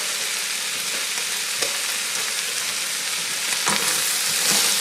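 Cabbage gets stirred in a soup pot, a steady close sizzle with a few scraping spoon strokes against the pot's side, continuous and fairly loud, with no voices.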